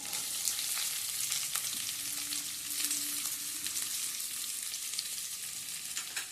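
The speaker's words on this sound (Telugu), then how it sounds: "పప్పులు అవి ఒక వేగిన తర్వాత వేసుకుంటే కొంచెం ఉల్లిపాయ కూడా వేగుతుంది." Lentils and onion fry in oil in a pan for a spinach fry: a steady, fairly faint crackling sizzle runs throughout, with a few light clicks from stirring, heard close up.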